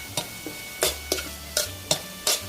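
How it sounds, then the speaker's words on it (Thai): Pork belly simmering with spices in a pot for braised pork: a soft steady bubbling and sizzle under repeated sharp clacks of a utensil against the pot, roughly every half second, close and without voices. "แล้วก็ใส่หมูสามชั้นลงไปค่ะ เคี่ยวให้สุกเลย"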